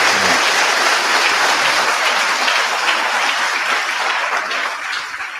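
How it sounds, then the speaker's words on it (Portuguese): A church congregation applauds during a Brazilian celebration service, a loud, dense and continuous burst of many hands clapping together that tapers slightly toward the end. "podem dar uma salva de palmas para Jesus?"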